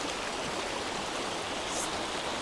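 A steady, dense rush of flowing river water, murky after rain, continuous and close with no talking.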